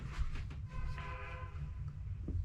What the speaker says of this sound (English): Somebody's got a train horn on their truck.